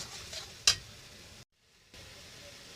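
Spice paste sizzles as it is stir-fried in a pan, a soft close hiss with one sharp spatula clack early on and a brief silent gap in the middle.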